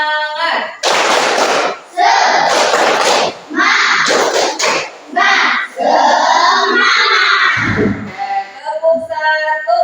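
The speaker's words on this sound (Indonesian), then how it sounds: "Coba tepuk semangat." Schoolchildren in an Indonesian classroom lesson do a rhythmic clapping cheer, loud bursts of clapping mixed with shouted chanting voices, pausing briefly between phrases.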